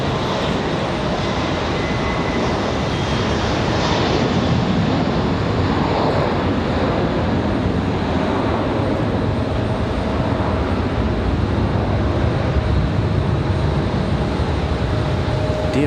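A jet airliner roars loudly and steadily at Raleigh Durham International Airport, with a dense, continuous engine rumble and hiss that holds throughout without any talking.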